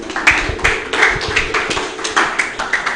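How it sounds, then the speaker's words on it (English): An audience at a Web3 builders' conference gives a round of applause, with steady clapping and sharp claps standing out throughout, close and moderately loud. "Please just give yourself a round of applause."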